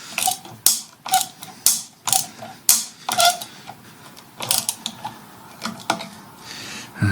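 A screwdriver bit drives brass slot-head screws into an Edwardian coat rack, giving rapid clicking, ratcheting turns and scraping metal-on-wood bursts, close and fairly loud with no talk.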